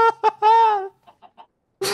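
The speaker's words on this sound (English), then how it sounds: "there's wolves killing chickens and sheep" Chickens being attacked by wolves in the Minecraft video game cluck in a few sharp close squawks followed by softer clucks, with a brief burst of noise at the end.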